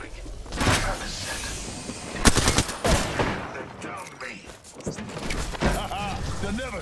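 Gunfire in an Apex Legends trios match, with bursts of automatic shots, sharp single cracks and mechanical clanks mixed with in-game sounds while a voice speaks over the action.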